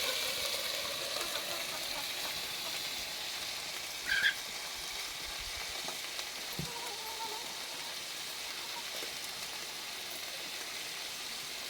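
Garlic tempering sizzles in hot oil in a pan on a village wood-fired stove, a steady broadband hiss with one brief louder crackle partway through and no talking.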